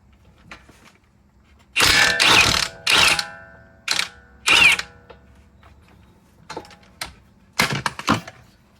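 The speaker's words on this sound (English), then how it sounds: "The castle nut here is 17 millimeter, so let's take it off with the impact." Loud bursts of a pneumatic impact wrench rattling in short runs as it removes a 17 mm castle nut on a 2009 Lexus RX350 CV axle, separated by brief pauses and a few clicks.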